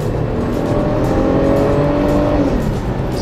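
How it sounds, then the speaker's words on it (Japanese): A Volkswagen Touareg with a V6 engine accelerating, heard from inside the vehicle as a loud, steady drone whose pitch climbs smoothly for a few seconds, then eases. "V6 はいい音しますね。"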